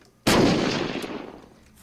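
Explosion in the video game Unturned: one sudden loud boom after a near-silent lead-in, followed by a rumbling tail that fades slowly over more than a second.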